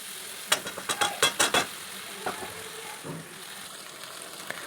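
Spices for goat curry, with turmeric and salt, are stirred and fried in a pan, with a quick run of sharp spoon scrapes near the start, then a softer sizzle and a few scattered clinks.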